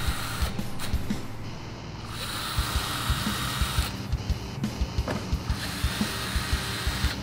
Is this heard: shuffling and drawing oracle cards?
no